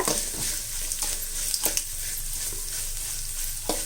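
Dried red chillies sautéing in a pan for a drumstick leaf and peanut stir-fry, giving a constant bright sizzle broken by a few sharp stirring scrapes and knocks, close up with no voices.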